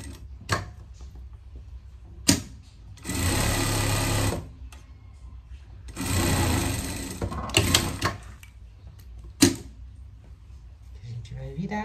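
Sewing machine stitching a seam across a greyhound coat, running in two long bursts of about a second each with short clicks and handling noises between, close and fairly loud.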